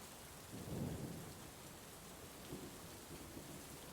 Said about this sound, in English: The storm had rolled in suddenly, dark clouds swallowing up the last remnants of daylight. Rain lashed against the windows